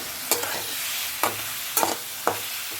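Sweet mango pickle with turmeric and curry leaves bubbles and sizzles in a pan, a steady hiss broken by a few sharp stirring scrapes spaced about a second apart.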